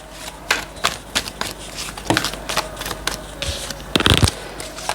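A deck of tarot cards is riffled and shuffled by hand, producing crisp repeated flutters and snaps close to the mic, with a few louder bursts near the end and no talking.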